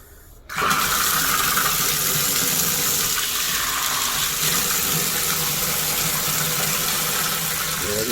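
Water runs steadily from a Symmons shower fitted with a new cartridge, starting abruptly after a brief pause and then pouring as a loud, continuous broadband rush that holds without break.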